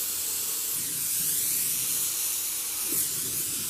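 A torch flame roars with a steady, loud, close hiss as it heats a part from a 1 1/2 HP Lauson Model W hit-and-miss engine, with a slight swell in intensity partway through.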